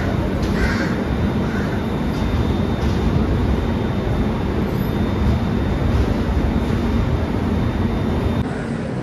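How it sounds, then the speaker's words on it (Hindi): Devagiri Express coming to a halt at Mumbai CSMT station: a broad, steady rumble of rail noise and station ambience, with crows cawing loudly over it near the start. "अपने निर्धारित समय से करीब 37 मिनट की देरी से हमारी जो ट्रेन है वो अब पहुंच चुकी है"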